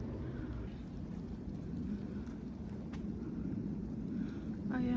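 Rain mixed with falling snow in London comes through as a steady, diffuse outdoor wash with low rumbling wind noise, continuous throughout with a few faint incidental sounds.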